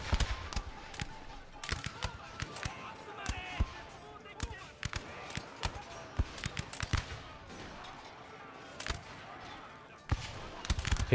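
Musket volleys in Shogun 2: Total War, sharp scattered cracks and pops firing irregularly across a battle, with someone talking over them throughout.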